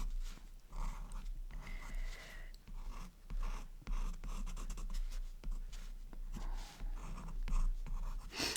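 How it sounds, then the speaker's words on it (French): A pen scratches across paper in short, uneven strokes while drawing in an art journal, close up, with intermittent bursts and pauses; a dog snuffles and whimpers faintly in the background. "je gratte un petit peu comme je dessine"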